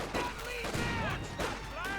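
Rifle gunfire from the Company of Heroes 2 strategy game crackles in scattered shots under a commentator's steady, fast talk, with battle noise filling the background.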